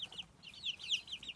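Small chicks cheep and cluck in repeated high, quick chirps, fairly close and faint, with no talking over them.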